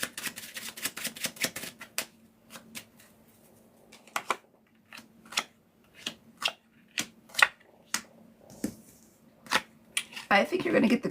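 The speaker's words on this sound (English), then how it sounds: "I want to get a clean shuffle" Tarot cards being shuffled in a series of crisp riffling bursts and slaps, fairly close, with short pauses between shuffles and a low steady hum underneath.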